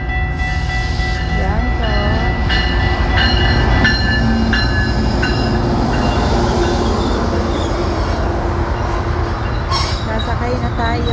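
Passenger train rumbling steadily close by with some squealing wheel tones, heard while people talk over the continuous noise.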